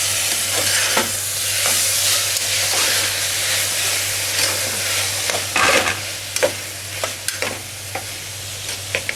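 Sprout curry seasoned with a little coriander powder being stirred in a pan, a steady close sizzle with irregular scraping strokes of the spoon that sharpen toward the end, with no talking.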